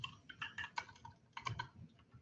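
Quiet typing on a computer keyboard while entering a script in a code editor, with a quick run of soft, closely spaced key clicks that come in short bursts and brief pauses.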